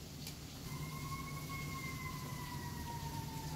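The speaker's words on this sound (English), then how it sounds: "Sounds like the tornado sirens" Tornado warning sirens wail in the distance as a long, slowly falling steady tone over a constant low rumble of background noise, with no talking.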